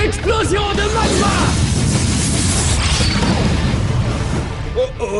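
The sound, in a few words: cartoon magma explosion attack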